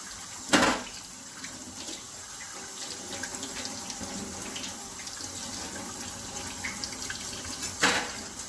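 Running tap water pours steadily over a potato being rinsed at a kitchen sink while making sautéed potatoes and onions, a constant near splashing hiss with a couple of louder splashes at the start and end.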